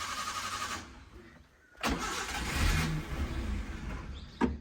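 A Maruti Eeco's engine cranks repeatedly without catching, with loud whirring bursts of the starter separated by brief pauses, close and prominent with no talking.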